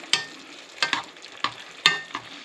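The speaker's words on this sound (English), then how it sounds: "Just mix it all up." Shrimp, tofu and leeks are stirred in a hot pan, giving four or five quick scraping clatters at irregular intervals over a faint sizzle, close up with no voices.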